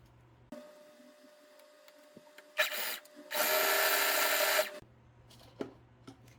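A domestic sewing machine on zigzag stitch sews a plus-size ring swimsuit, joining lining, main fabric and elastic. The motor runs in two close, loud bursts, a short one and a longer whirring run, with quiet handling noise between.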